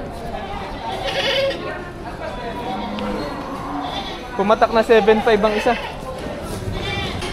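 Two goats at a livestock market bleat in a short burst of rapid, wavering cries over steady background chatter, with people talking nearby throughout.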